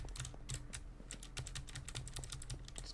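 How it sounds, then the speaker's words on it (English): Computer keyboard keys clicked rapidly and constantly during gaming, a dense, close, irregular stream of sharp taps with no talk. "The amount of keyboard clicks to the movement in the screen are off-putting"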